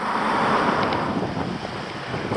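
Steady, loud wind buffets the microphone on an island coast of Anglesey, with the sea and misty mainland hills nearby, a continuous roar with gusty swells and no talking.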